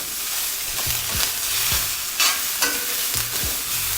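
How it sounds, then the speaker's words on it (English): Garlic, onions and peppers sizzle loudly in a hot pan while being stirred, with bright continuous frying hiss and repeated scraping strokes of a utensil, close up and without talk. "Just gonna soften up that garlic slightly, and then we're gonna turn off the heat."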